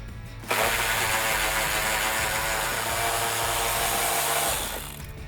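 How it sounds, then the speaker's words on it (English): Steady whirring mechanical rattle of a ratchet with a 13mm socket backing out an inner frame rail bolt on a 2015-2017 Mustang GT, running continuously for about four seconds before stopping. "I'm going to use my 13mm socket on my ratchet to remove this inner frame rail bolt"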